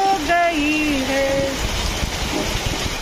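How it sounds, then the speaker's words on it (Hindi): Heavy rain pours steadily at a home, a dense continuous hiss close by, briefly overlaid at the start by a voice or tonal sound before the downpour continues alone. "जो आप लोग देख सकते हैं कितना तेज बारिश शुरू हो गई है।"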